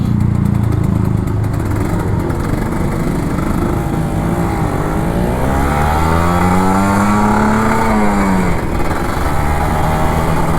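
An old Kawasaki Ninja RR 150 two-stroke motorcycle drones steadily up close while riding, then revs up in one long rising wail before dropping back to a buzzing idle.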